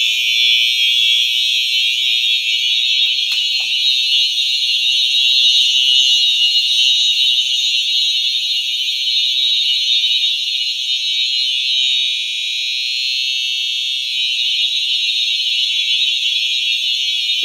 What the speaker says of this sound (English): These alarms are actually really quiet.